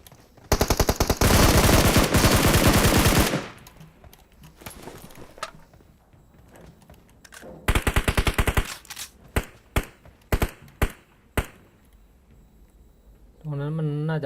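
Bursts of automatic gunfire in PUBG Mobile, a loud sustained volley followed by a second burst and several separate single shots, with players talking over the action.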